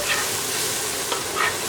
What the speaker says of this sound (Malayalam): മസാലയൊക്കെ ഒന്ന് എണ്ണയിലൊന്ന് വറുത്ത് വരുന്ന സമയത്ത്